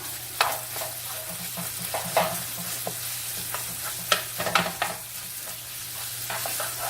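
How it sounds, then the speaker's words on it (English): Bacon pieces and apples sizzle in a pan under a steady low frying hiss, broken by irregular scraping and clacking strokes of a utensil as they are stirred, moderately close and without speech. "And we can dump the apples right in here. We're going to give the bacon a stir."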